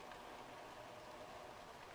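Steady rain falls in the Dragon Age Inquisition video game, a continuous even hiss of drops without a break, soft and quiet.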